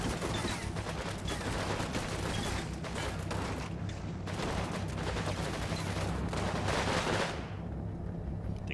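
Sustained video-game gunfire pours from an enemy-held building in Bokruisk, with dense overlapping rifle and machine-gun bursts rattling continuously before cutting off near the end.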